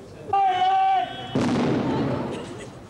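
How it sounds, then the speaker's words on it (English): A sharp, heavy blast from an army controlled explosion of a suspect case bursts out after a brief tonal sound, followed by a broad rumbling decay that fades over a couple of seconds. "the army carried out a controlled explosion"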